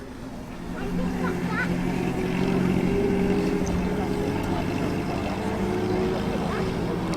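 A classic Alvis car drives in at the Bicester Scramble vintage car meet in October 2023, its engine a steady low drone that swells slightly and then holds, with faint outdoor crowd noise around it.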